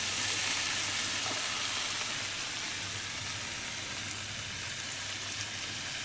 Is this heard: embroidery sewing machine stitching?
no